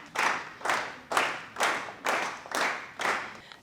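An audience claps for team 1 at a quiz contest: seven sharp, unison bursts of clapping land in a steady beat about half a second apart, close and moderately loud, with no talking.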